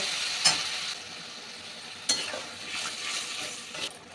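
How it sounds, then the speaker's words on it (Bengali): Water is poured into a hot pan of fried rice while cooking mochar ghonto, a banana-flower dish, and sets off a hissing sizzle. Short bursts of sizzling and stirring stand alone with no talking. "এবার দেব পরিমাণ মতন জল চালটা একটু সেদ্ধ করার জন্য"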